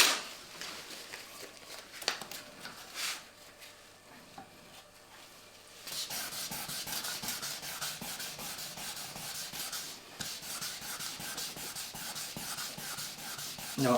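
Fine 1500 grit sandpaper rubbing over a fibreglass plug, a steady scratchy hiss of back-and-forth strokes that grows busier and louder partway through, close by with no talk.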